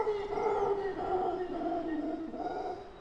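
A loud call from a monkey species sharing capuchin territory in the Brazilian rainforest: a sustained, droning howl that echoes through the forest for about three seconds, steady and unbroken.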